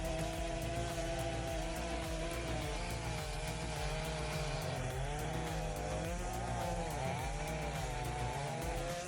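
A chainsaw engine roars continuously and loudly up close, its pitch rising and dipping as the throttle revs.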